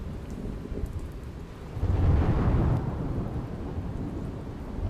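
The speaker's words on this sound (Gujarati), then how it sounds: "મહેસાણાના ઊંઝા પંથકમાં ધોધમાર વરસાદ વરસ્યો" Heavy monsoon rain pours steadily in Unjha, Mehsana, Gujarat, while a deep roll of thunder swells and rumbles briefly near the middle, then fades back into the downpour.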